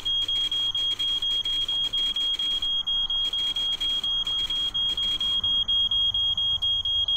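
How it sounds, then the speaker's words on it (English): Smoke detector alarm going off in the car-building game My Summer Car, a loud steady high-pitched tone pulsing in rapid even beeps throughout, with a low hum beneath. "it did set off the smoke detector, and that is what's happening."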